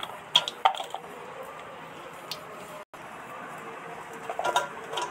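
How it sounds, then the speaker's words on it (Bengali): A knife cuts onion into slices that are neither too thin nor too thick for a mutton and potato curry. A few quiet, sharp taps sound early on, then a denser cluster of cuts comes near the end. "পেঁয়াজটা পাতলা করে কেটে নিচ্ছি"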